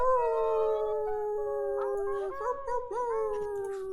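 Several people in an online group call imitate wolf howls with their voices, long overlapping sliding howls rising and falling together at close range, fairly loud and unaccompanied by speech.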